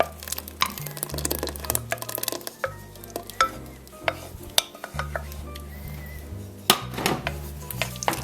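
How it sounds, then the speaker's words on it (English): Elk stew being stirred in a pot, with repeated scraping and knocking of a utensil against the pot and a soft bubbling simmer underneath, close and fairly loud, no talking. "And stir it all together."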